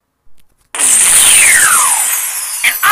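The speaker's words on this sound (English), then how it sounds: "drills" A power drill whirs loudly after a short pause, its motor pitch sliding downward under load, with a brief stop and restart near the end.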